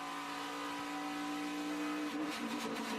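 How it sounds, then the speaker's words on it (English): A NASCAR race car engine roars past near the wall at the 2015 Ford EcoBoost 400, a loud sustained drone with a rising pass-by swell toward the end, heard alone without commentary. "up against the wall, you heard the 88 of Dale Earnhardt Jr"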